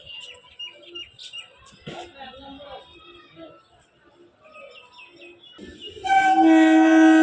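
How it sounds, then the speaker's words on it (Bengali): A train arrives, loud and close, with a sustained blaring horn and rumble bursting in near the end after a quieter stretch of bird chirps and faint voices. "ওদের ট্রেন আসছে"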